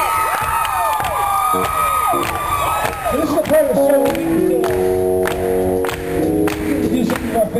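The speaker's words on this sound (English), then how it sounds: "Let's get a clap together from our friend Ellie right here." A concert audience claps and cheers loudly, whoops and shouts mixing with applause while someone speaks over the crowd noise and a piano or music rings beneath.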